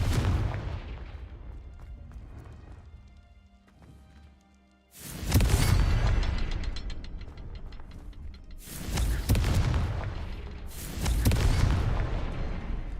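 The Confringo fire spell in the video game Hogwarts Legacy sets off three heavy, booming explosions after a quieter rumbling stretch, each blast sudden and loud with a long crackling decay.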